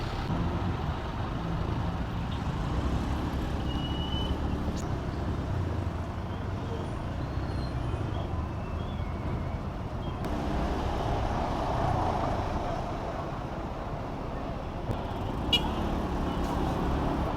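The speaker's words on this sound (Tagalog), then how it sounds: "Sasakyan dumadaan, no?" Steady road traffic on a highway near Tagaytay, Batangas, with trucks and cars passing in a continuous low rumble, a brief hiss of air brakes and a light horn toot, with no talking.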